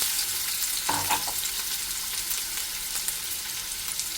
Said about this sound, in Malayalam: നറുക്കാൻ വേണ്ടിയിട്ടുള്ള പാൻ അടുപ്പത്ത് വെച്ചിട്ട് അതിൽ ഓയിൽ ഒഴിച്ച് കൊടുത്തിട്ടുണ്ട്. നമുക്ക് സവാള വെക്കാം.